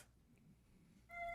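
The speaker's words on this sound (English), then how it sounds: "Sounded like a cat." A cat meows once, faint and off in the background, at the end of a quiet stretch indoors.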